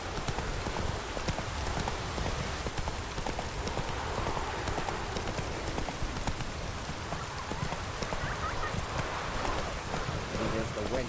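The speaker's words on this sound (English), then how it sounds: "Pouring like this on me boat. Let it rain." Steady rain in The Witcher 3 video game patters continuously in a dense, even wash of noise, with hoof-like clops and faint voices mixed throughout.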